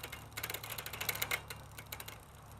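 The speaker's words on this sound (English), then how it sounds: "shift through the gears" A bicycle chain ticks and clatters rapidly as it is shifted through the gears on the sprocket, a quiet, close run of fast ratcheting clicks that swell and fade.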